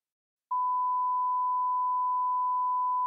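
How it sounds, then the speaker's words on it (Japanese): A pure sine test tone of 1 kHz from WaveLab's test generator, starting abruptly after a short silence and holding perfectly steady and loud to the end, with no other sound. "ウェーブラボに付属するテストジェネレーターを使用してサイン波を鳴らしてみます"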